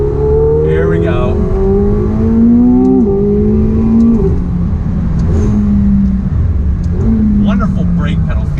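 A 2019 McLaren 720S revs up through several gears, its engine note climbing and dropping at each shift, loud and close throughout.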